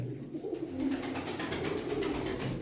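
Pigeons coo repeatedly in low, throaty bursts from a home loft, close and fairly loud, with a faint rustling backdrop and no talking.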